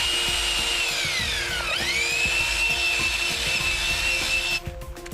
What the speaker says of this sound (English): Add the water and mix as you go with the 1/2-inch drill and cone mixer.